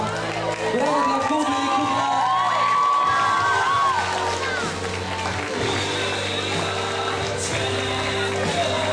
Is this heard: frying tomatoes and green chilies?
no